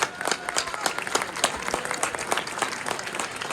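Audience applause at a gathering of Valencian dolçaina and tabal players, a lively crowd clapping steadily with crisp individual claps close by, filling the whole stretch without speech.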